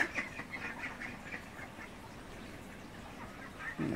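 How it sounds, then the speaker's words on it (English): Ducks on a small urban farm plot quack repeatedly in a steady, chattering series, moderately close against faint outdoor background noise. "Ducks,"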